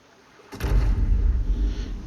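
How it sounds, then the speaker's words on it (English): A giant plasma cannon fires in Ark Genesis with one sudden, loud, booming blast, followed by a deep rumbling roar that keeps going without any voices. "It definitely fires a giant plasma cannon."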